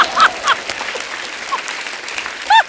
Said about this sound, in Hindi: जब मैं जीतता हूँ ना तो लोग ऐसे ताली बजाते हैं